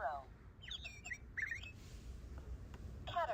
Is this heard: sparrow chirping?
yes